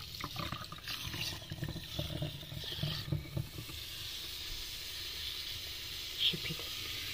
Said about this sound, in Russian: Шипит в основном там, где как раз остатки пищи.